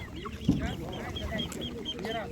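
Young chickens cluck and chirp at an outdoor livestock market in a Ukrainian village, soft repeated calls close by under market chatter and a voice.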